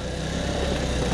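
A five-year-old scooter engine with 26 km on it, just repaired after being broken, running with a steady buzzing drone, close and fairly loud across the short stretch.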